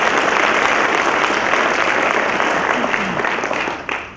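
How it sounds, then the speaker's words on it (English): A ceremony audience applauds an Army band from Fort Jackson in a sustained, dense round of clapping that fades out near the end. "give a round of applause and a special thanks to the 282nd Army Band from Fort Jackson"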